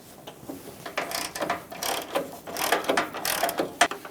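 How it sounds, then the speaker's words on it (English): Ratchet wrench clicking in quick, uneven bursts as it loosens a bolt beneath the headlight trim bezel of a Ford E-350 Super Duty van, quiet and close with no talk. "we're going to go for this bolt underneath the headlight, trim, bezel."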